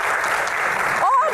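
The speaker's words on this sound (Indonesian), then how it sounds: "Mbak Afiliani, tepuk tangan dong buat Mbak Afiliani." Crowd applause for a guest panelist being welcomed onto a stage at a live Q&A event, a steady dense wash of clapping that fills the whole moment, with a brief voice rising over it near the end.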